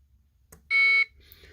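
A buzzer on a vintage keyboard under restoration, driven through the CPU, giving a single loud, steady electronic beep of about a third of a second, preceded by a faint click.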